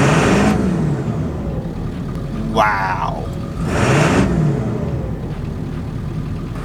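A 7.3 Powerstroke diesel pickup truck with a 140 performance tune revs up in two loud bursts outdoors in hot Florida weather, engine roaring and falling away between them, with a person speaking briefly in between.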